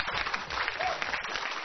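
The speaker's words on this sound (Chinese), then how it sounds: "我们现场给点掌声好不好？" A studio audience applauds on a Chinese televised Spring Festival Gala talent show, a dense, steady wash of clapping filling the short moment without a break.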